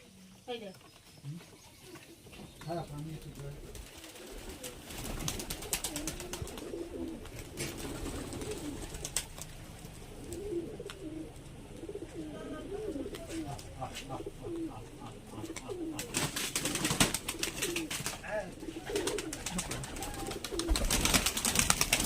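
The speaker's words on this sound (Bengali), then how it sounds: "কবুতরগুলো হাইটে চলে গেছে" Giribaj pigeons coo softly in the background while wings flutter and clatter in bursts as they fly high, with people talking over them.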